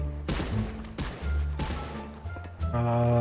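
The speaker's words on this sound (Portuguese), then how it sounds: "Agora eles ouviram, tá tomando tiro" Bursts of gunfire from the zombie survival game GTA RP FiveZ, several sharp loud volleys spaced about half a second to a second apart, with tonal game sounds in between.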